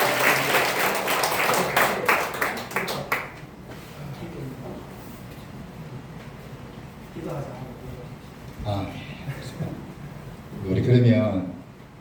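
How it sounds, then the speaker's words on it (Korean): Church congregation claps together loudly for about three seconds during a combined Korean worship service at a church hall in Gimcheon, then the applause fades into quieter room noise and speech. "하나님께 영광의 박수를 드리겠습니다."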